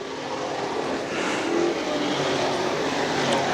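Sportsman race cars at Can Am Speedway roar past in a loud, steady wash of engine noise that holds unbroken for several seconds with no voices.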